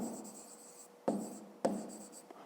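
Pen writing on paper while solving a fifth-grade math problem, producing soft scratchy strokes with two sharper taps, close and quiet.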